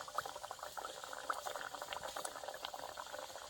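Rice cooking in a pot of boiling water in a rural Konkan kitchen gives a faint, steady bubbling and gentle patter throughout, with no voices.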